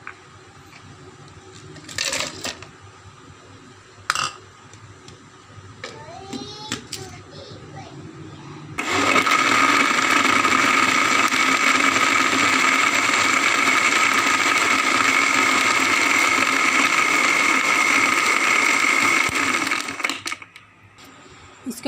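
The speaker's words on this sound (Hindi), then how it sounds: "अब हम इसमें बर्फ़ डाल के फिर इसको दोबारा ब्लेंड करेंगे।" A kitchen blender whirs loudly for about eleven steady seconds while blending mango shake with ice, after a few quieter clicks and knocks of lid and jar handling.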